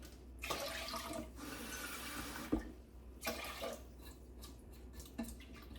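Tap water pours into a pot holding two cups of washed rice, arriving in several separate splashing bursts, close by and fairly soft.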